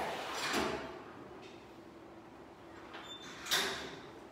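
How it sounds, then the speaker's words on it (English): A sliding door at a bush dog enclosure in a zoo, heard as two rushing, scraping slides a few seconds apart, moderately close, with a soft background hiss and no speech. "Door."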